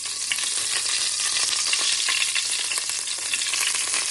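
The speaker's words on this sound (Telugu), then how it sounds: "మనం ఆల్రెడీ బాయిల్ చేసుకున్న ఎగ్స్‌ని ఈ కడాయిలో వేసుకొని ఒక నిమిషం పాటు టాస్ చేసుకున్నాక" Boiled eggs tossed in hot oil in a kadai, producing a loud, steady crackling sizzle with constant small pops throughout, close up and with no voices.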